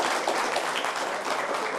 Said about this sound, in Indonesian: Tepuk tangannya boleh buat Bang Idrus Marham.